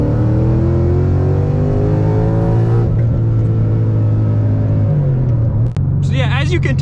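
A Whipple supercharged 800hp Mustang accelerates hard, its loud engine rising steadily in pitch through a long pull, dropping briefly at a gear change and then climbing again with supercharger whine.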